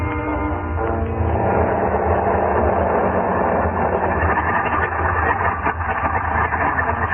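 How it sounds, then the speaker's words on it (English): A small propeller plane's engine revs and drones steadily as the aircraft taxis and plows through deep snow, a loud continuous muffled motor sound with narrow, old-recording quality and no voices. "revved up his motor, and the little plane went plowing off through the snow"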